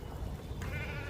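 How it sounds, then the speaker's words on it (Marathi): A sheep from a village flock gives a short, close, wavering bleat that is loud and clear against a low background rumble. "बघा इथे किती मेंढ्या आलेल्या आहेत दिसते"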